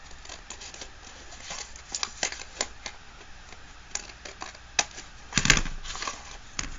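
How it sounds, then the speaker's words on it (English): Scissors snip paper off an accordion journal made from a vintage postcard, giving a series of sharp, close clicks and cuts spaced irregularly, ending in a louder crunchy cut. "So let me just snip it off."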